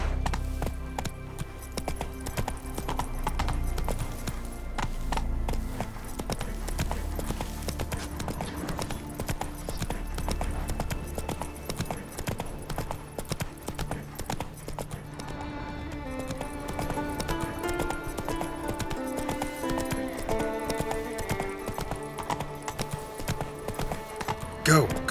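Roach, Geralt's horse in The Witcher 3: Wild Hunt, gallops with a steady, fairly loud clip-clop of hooves under music and game ambience, while voices speak now and then over the hoofbeats.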